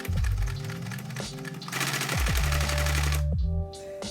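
Sewing machine stitching waistcoat fabric up close in rapid mechanical bursts, the motor whining up and down in pitch with short pauses between runs.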